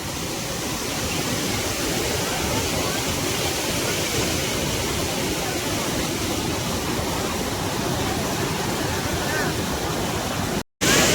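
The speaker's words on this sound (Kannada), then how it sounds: "ನೀರು ನೋಡಿ ಎಷ್ಟು ಸ್ಪೀಡಲ್ಲಿ ಹೊರಿತಾ ಇದೆ ಅಲ್ಲಿ." Monsoon waterfall near Hassan roars with fast-rushing water, a loud, dense, unbroken wash that drops out for a split second near the end.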